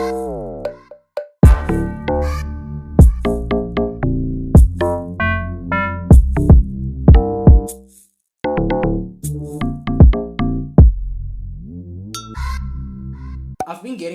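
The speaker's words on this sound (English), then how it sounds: "I merged them or layered them together, and together they sound like this" Two layered lock drum samples, one high and one low, hit together in a beat alongside tonal, bell-like melodic layers, looping loudly with brief pauses.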